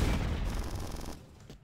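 A shotgun fires in the video game Bad Bots, a heavy close blast that rolls off into a decaying rumble, with no voices.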